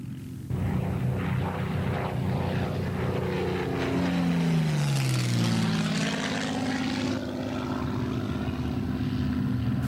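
A World War II-era propeller airplane drones overhead, its engine pitch sweeping down as it passes by, loud and continuous throughout.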